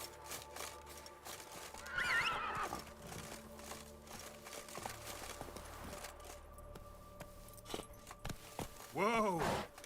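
Roach, Geralt's horse in The Witcher 3, lets out two loud whinnies, one early and one at the end, over soft hoof clops and faint game ambience, with some speech mixed in.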